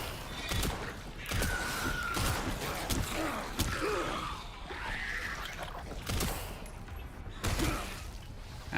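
Gunshots in the survival horror game Resident Evil Requiem, a string of sharp, loud cracks spaced irregularly across the scene amid rumbling game ambience and grunting creature sounds.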